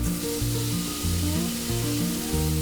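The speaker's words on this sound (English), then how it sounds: "fry it until the tomatoes are nice and soft" Chopped onion, tomato and green chilies frying in a pan give a steady, close sizzle, with a tonal, music-like layer running underneath throughout.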